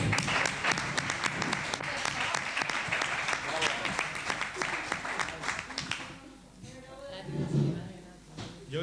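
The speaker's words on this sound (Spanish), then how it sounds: "un aplauso de la gente" Lively applause from a village crowd at an anecdote contest, dense claps for about six seconds before thinning out as voices and chatter take over.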